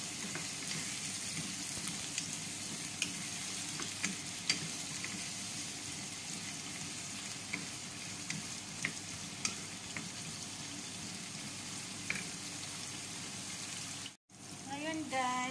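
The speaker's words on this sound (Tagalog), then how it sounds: "naprito ko na yung sahog na patatas, green pepper, at saka carrots" Potatoes, green pepper and carrots fry in a pan for beef caldereta, giving a steady close sizzle with scattered crackles and pops that runs unbroken until a brief dip near the end.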